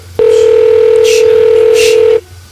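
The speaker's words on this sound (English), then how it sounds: "It's ringing." Ringback tone of an outgoing telephone call, a single steady loud tone lasting about two seconds, with faint speech-like sounds behind it.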